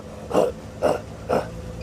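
A voice imitates a leopard's sawing call: three rough, rasping grunts evenly spaced, close and fairly loud, with quiet pauses between.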